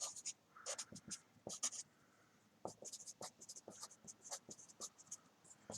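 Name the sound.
writing by hand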